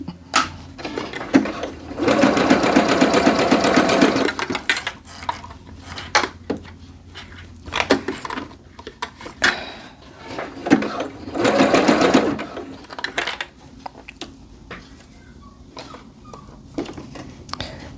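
A domestic sewing machine stitches the seam of a pair of joggers in two steady bursts of rapid mechanical whirring, separated by quieter handling clicks and fabric shuffling close by.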